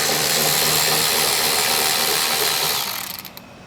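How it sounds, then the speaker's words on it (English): A 10mm socket on a ratchet works loose the intake tube coupler screw on a Mazda CX-90/CX-70 during a cold air intake install, giving a close, steady mechanical whir that runs continuously before tapering off at the end. "We're going to use a 10mm socket to remove the intake tube coupler."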